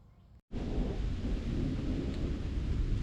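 After a brief silence, a broad steady roar of heavy rain begins and continues, loud and close, with a low rumbling undertone.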